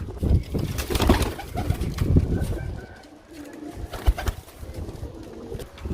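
Pigeons at a pigeon sale coo and murmur in repeated low, throaty bursts, fairly close, with some wing and handling noise and a busy background.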